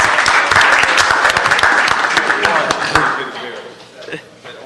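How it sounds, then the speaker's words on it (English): A round of applause from a small group at a transportation committee meeting, close, crisp individual claps that are loud at first and then thin out and fade. "Yeah, a round of applause first."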